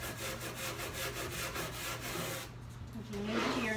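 Oak cabinets are scraped by hand after a chemical stripper, the tool rasping steadily in repeated back-and-forth strokes. The scraping is soft and close, and a voice briefly comes in at the end.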